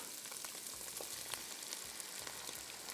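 Kung Pao chicken stir-fried in a pan on full heat gives a steady, dense sizzle with faint scraping stirs, close and continuous, with no voices.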